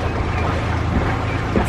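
Tour boat cruising on Lake Pichola in Udaipur, a dense, steady low motor rumble mixed with water and wind noise, close and continuous for the short stretch.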